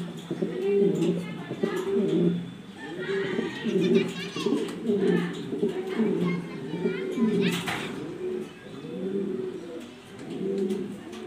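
Black exhibition pigeons coo in steady, repeated low rolling phrases, fairly close, with children's voices and chatter in the background.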